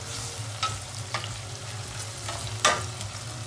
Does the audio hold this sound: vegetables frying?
yes